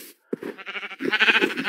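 A sheep bleats close by in a short wavering call, rising and trembling over about a second, with no speech.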